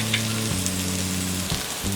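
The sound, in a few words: vegetables frying on low flame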